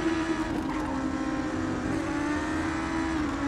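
Race cars in the driving game GRID, a loud sustained engine drone with steady tonal whine and occasional tire noise, no voices.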